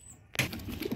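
A sudden burst of wings flapping right after a brief quiet, followed by soft rustling and low pigeon coos nearby.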